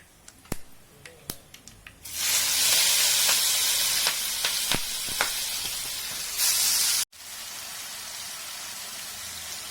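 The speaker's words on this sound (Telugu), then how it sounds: "కొత్తిమీర పేస్ట్ని ఇలా ఆయిల్లో పచ్చివాసన పోయేలాగా ఒక 2 మినిట్స్ సిమ్లో పెట్టుకొని వేయించుకోవాలి" Fresh coriander and green chilli paste hits hot oil with a sudden loud, steady hiss and sizzle after a few sharp clicks, then cuts off to a quieter, softer bubbling.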